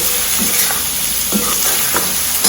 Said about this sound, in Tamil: இப்போ இந்த பக்கம் வந்து நல்லா கிளறி விட்டுடுறோம்.